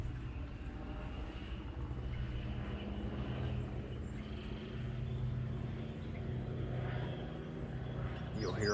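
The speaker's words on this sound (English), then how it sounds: "Little small bush planes." A small two-seater bush plane droning overhead in open rural country, a steady faint engine hum and rumble that holds at low, even loudness throughout with no talk.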